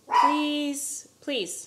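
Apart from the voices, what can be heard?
dogs barking outside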